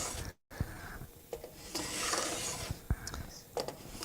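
Tool scraping along the frets of a guitar neck during a repair, a close, uneven rasp with small clicks and a brief dropout near the start.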